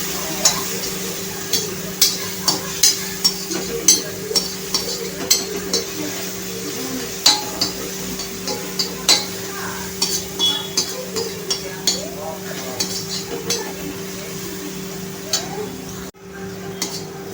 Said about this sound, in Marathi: आता आपण ही मिरची आणि लसूण टाकू ह्याच्यामध्ये आणि परतून घ्यायची आहे